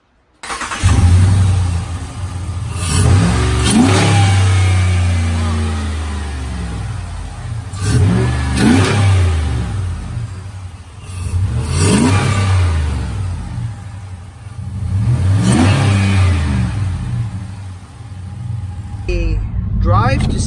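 A 5.7 Hemi V8 engine in a 2019-2020 Ram 1500 pickup with a K&N intake cranks and catches, then revs hard several times, each rev rising and falling in loud bursts over a steady rumbling idle, close by.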